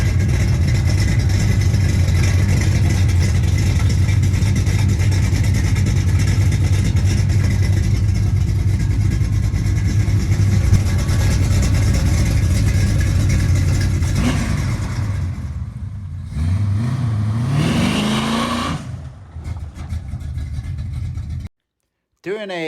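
A custom-built Callaway engine in a hot rod shop warms up at a steady idle and then revs, a loud sustained drone that rises and falls in pitch before cutting off near the end.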